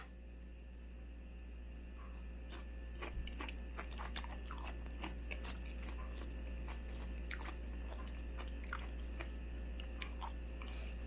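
Crisp, close crunching bites and chewing of fatsia shoot (dureup) kimchi with onion, repeated irregularly over a steady low electrical hum with no talking.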